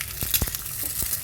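An egg fries in a worn, sticky Teflon pan, a steady close sizzle broken by a few sharp scraping or stirring strokes.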